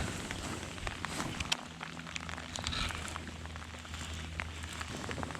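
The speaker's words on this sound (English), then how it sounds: "Rain's tapering down a little bit." Light rain patters on the water and a kayak during winter bass fishing, a soft, even scatter of drops with low hum underneath, close by and faint, with no speech.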